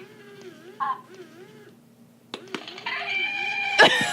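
A comical chicken-like sound effect, called Galactic Chicken, gives warbling, wavering squawks and clucks, close and fairly loud, and grows into a harsh, noisy rush toward the end.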